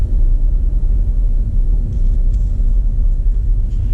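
A Honda Civic climbs the steep, narrow Mount Washington road, heard from inside as a steady low rumble of engine and road noise with no other sounds.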